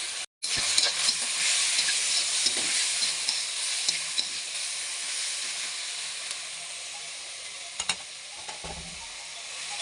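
Onion, chili and potatoes seasoned with salt and turmeric fry in a pan with a steady, close sizzling hiss that runs throughout, broken by occasional scrape-and-stir clicks, with no talking.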